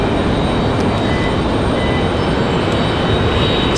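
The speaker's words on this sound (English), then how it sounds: "What is this exec jet?" A Slate Aviation business jet arriving at RDU airport in Raleigh-Durham roars steadily and loudly, a broad continuous engine rush that stays constant throughout with no talking.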